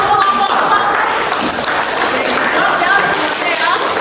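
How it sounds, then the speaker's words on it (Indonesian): A classroom audience claps for a student group that has just presented, a dense, steady patter of hands lasting several seconds, with voices mixed in underneath. "Silakan tepuk tangan untuk kelompok"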